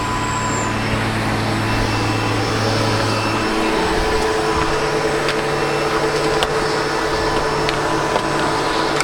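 SEBO Automatic X7 Boost ePower vacuum cleaner running with a steady, loud motor drone and brush roll; the pitch shifts partway through as the machine is pushed, with occasional small clicks and rattles.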